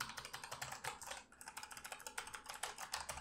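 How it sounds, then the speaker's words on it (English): Rapid typing on a Razer mechanical keyboard with purple switches, close up, with crisp clicky keystrokes in a steady flurry and a brief pause midway. "Here's a little sound test for you as well."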